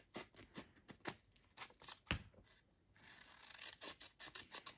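Scissors cut around a paper picture with a rapid, rhythmic series of close, soft snips and rasping paper rubs, one sharper crunch partway through, and no talking.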